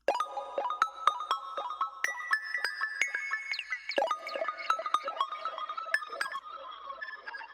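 Dry synth pluck playing a quick, steady melodic pattern with crisp, short notes and no added effects, for a beat in FL Studio, heard alone and fairly loud.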